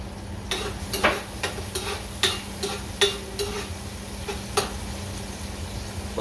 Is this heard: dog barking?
no